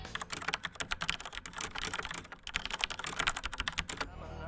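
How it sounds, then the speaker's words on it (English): Typing on a Corsair STRAFE mechanical keyboard with Cherry MX Red switches, rapid close clacking keystrokes in an uneven stream, with a brief pause midway, then a final burst before stopping; no talking. "Here's a quick demo of how it sounds while typing."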